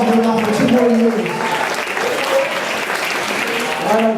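A banquet crowd applauding sophomore soccer players, with sustained many-handed clapping continuing steadily and voices murmuring beneath it.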